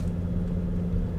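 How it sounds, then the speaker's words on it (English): A Volvo XC90 D5 diesel five-cylinder engine on the move in Spain, giving a steady low rumble and hum from inside the cabin, with no talking. "It's nice driving a 5-cylinder Volvo again."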